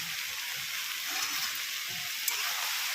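Fried spice mix added to a pan of banana flower ghonto with prawns sizzles with a steady, close, loud hiss and faint soft stirring underneath. No voices are heard.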